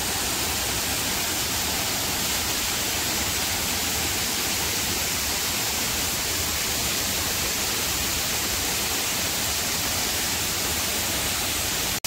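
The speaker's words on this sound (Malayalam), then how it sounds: "ഇവിടെ നല്ല ഫോഴ്സിൽ വെള്ളം വന്നിട്ട് കുറച്ച് രീതിയിൽ ഇവിടെ കെട്ടി നിൽക്കുന്നുണ്ട് കേട്ടോ." Areekal waterfall in Kerala, swollen after a night of rain, pours down with force in a steady, loud, broadband roar that fills the whole stretch without a break, with no voices over it.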